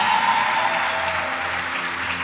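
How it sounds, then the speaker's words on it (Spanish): A church congregation at a healing service claps together, a thick wash of applause that holds evenly for a couple of seconds. "Denle un fuerte aplauso a Dios."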